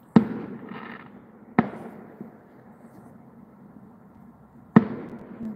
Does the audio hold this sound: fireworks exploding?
yes